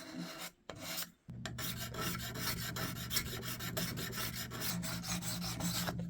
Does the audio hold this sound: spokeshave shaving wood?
yes